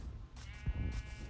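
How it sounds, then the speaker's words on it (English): A sheep bleats in Minecraft, a short wavering baa heard alone over a low game background rumble, with a soft thud partway through and no talking. "There's another sheep"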